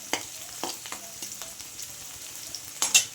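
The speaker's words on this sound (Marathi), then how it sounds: "छान हलवून घ्यायचं, याला परतवून घ्यायचं आहे मस्तपैकी। गॅस फुल ठेवायचा आहे।" Garlic and finely chopped green chili stir-fried in a pan over full high heat for restaurant-style chili paneer, giving a steady sizzle broken by several sharp scraping stirs, close and moderately loud with no talking.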